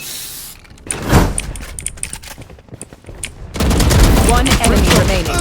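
Rapid bursts of gunfire ring out in the Valorant shooter game, a dense run of sharp close shots followed by louder sustained noisy action, with a voice talking now and then over it.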